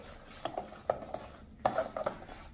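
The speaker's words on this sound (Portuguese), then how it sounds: "Só misturar mais um pouquinho." A spoon stirring a vinegar and sugar mixture in a bowl, giving a few sharp clinks and scraping taps against the side spread over a couple of seconds, close and fairly quiet.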